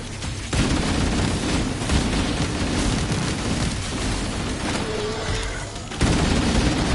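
Sustained, dense Halo gunfire rattles close and loud as a firefight rages, bursts blurring into a continuous barrage with booming impacts and a brief lull before the shooting surges again.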